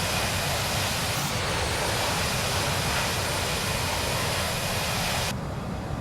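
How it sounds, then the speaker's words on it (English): Aircraft engines in the Prepar3D flight simulator game give a steady, dense roar that fills the whole clip at an even level and eases off slightly near the end. "My engines sound like they're having an aneurysm."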